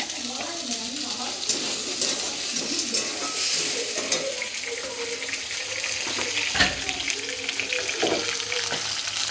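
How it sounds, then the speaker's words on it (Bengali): Onions frying in hot oil in a wok, a steady hiss with faint splashy, watery texture and occasional clatter, continuous at moderate level throughout. "এই যে কড়াইয়ের মধ্যে গরম তেল, তার মধ্যে পেঁয়াজ ভাজছি"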